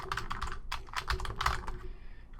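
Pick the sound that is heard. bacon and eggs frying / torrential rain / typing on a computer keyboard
typing on a computer keyboard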